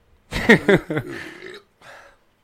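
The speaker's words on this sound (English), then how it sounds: "Follow that up with a burp." A drawn-out, gurgling burp rolls out after a couple of short vocal bursts, followed by a brief quieter tail; close and fairly loud.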